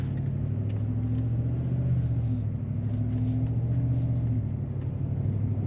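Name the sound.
truck engine and exhaust heard inside cab, windows up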